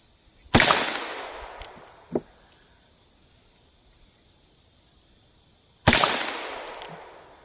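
Two sharp gunshots from a Heritage Rough Rider .22 revolver at an outdoor range, several seconds apart, each with a crisp crack and a decaying tail, with a few faint clicks between and steady cricket chirping underneath.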